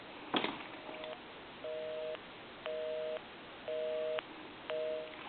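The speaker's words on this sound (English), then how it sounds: "I also want to dial my number, and it will be busy" A Western Electric Princess Ten Key telephone playing a busy signal through the earpiece, five evenly spaced two-tone beeps after a brief click, faint and thin.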